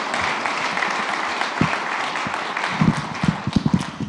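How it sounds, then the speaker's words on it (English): Applause for the panelists at a university startup investing event, a broad, steady wash of clapping from the audience that holds for the whole moment, with a few louder, closer claps rising toward the end. "How about a round of applause for these panelists and Arsh?"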